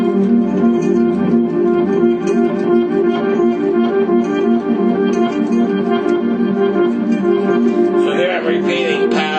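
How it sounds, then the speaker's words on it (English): Reverse guitar arpeggio, backwards-swelling notes layered into a dense, sustained musical bed that stays loud and continuous, with a brighter shimmer rising near the end. "this is just a reverse guitar kind of sound"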